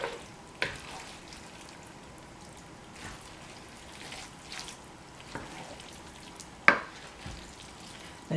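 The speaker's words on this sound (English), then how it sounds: "So you're going to stir that in." Ingredients are stirred into a beef and broccoli rice casserole, with soft scraping and wet shuffling and a few sharp clinks of a spoon against the dish, fairly close and without talk.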